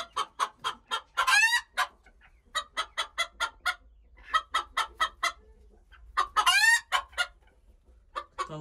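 Chickens in a backyard coop cluck in quick rhythmic bursts, close and clear, with a couple of louder drawn-out squawks rising between the clucking runs and no talk over them.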